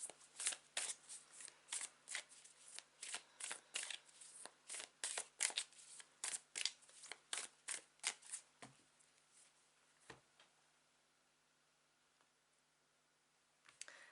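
Rapid riffle shuffling of tarot cards, a steady run of crisp ruffling bursts for several seconds, then a few soft taps and near silence.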